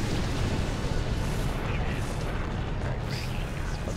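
Barrage weapons pound enemy dreadnoughts in the space strategy game Sword of the Stars, a dense continuous rumble of overlapping blasts and crackles, loud and unbroken throughout.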